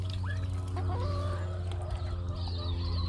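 Farm chickens cluck in short, close bursts over a steady low background hum, with no talking.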